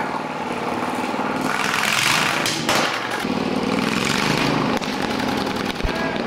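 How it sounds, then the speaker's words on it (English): A loud, rough V-twin go-kart engine with straight pipes revs up and down close by, with throaty bursts and a brief thump near the end. "it was really neat to hear that V-twin engine fire to life"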